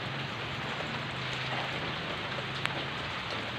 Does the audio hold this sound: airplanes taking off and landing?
no